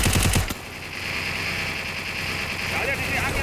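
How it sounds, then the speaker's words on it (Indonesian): Rapid automatic gunfire bursts from a Free Fire-style shooter video game during a tournament match, loud and dense at the start, then continuing as sustained game action under a commentator's voice. "Di sini aja tembakan di sini nampaknya."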